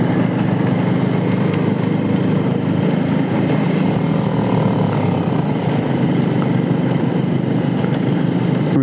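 Motorcycle engine climbing a hill road near Jaflong in Sylhet, a loud continuous drone heard close up from the rider's position, steady throughout with only slight shifts in pitch.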